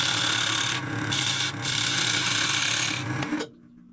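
A woodturning tool scrapes and shapes the edges of a spinning scrap wood piece, a steady loud rasping rub with brief dips, running continuously for over three seconds before cutting off abruptly.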